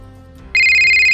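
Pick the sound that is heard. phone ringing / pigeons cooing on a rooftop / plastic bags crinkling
phone ringing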